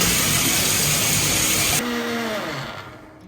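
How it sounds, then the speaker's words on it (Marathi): A mixer grinder blends coconut mixture with hot water, a loud steady whir that cuts off partway through and leaves a fading hum. "याला परत एकदा मिक्सरमध्ये वाटून घ्यायचं गरम पाणी ओतून."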